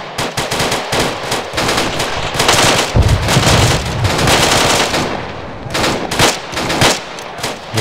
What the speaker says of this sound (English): Fifty cal still active.